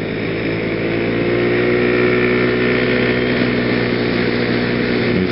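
Steady, continuous engine drone from a CVT-transmission vehicle at sustained throttle, loud and close, holding an even pitch without distinct revs.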